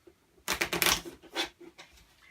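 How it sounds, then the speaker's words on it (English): A deck of cards is shuffled close by in one quick burst of crisp riffling flutter, followed by a few softer taps as the cards settle. "and shuffle the cards"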